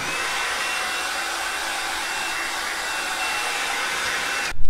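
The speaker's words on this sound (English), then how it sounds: "We'll speed up the drying process by using a heat gun." Steady, loud broadband blowing roar of a heat gun drying a freshly painted tow bar on a Mercedes Sprinter van, running continuously with no talk and cutting off abruptly right at the end.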